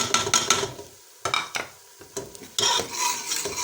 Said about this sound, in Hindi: इसको अच्छी तरह प्याज में भून लेंगे ताकि गरम मसाले की खुशबू जो है वो ऑयल में और प्याज में आ जाए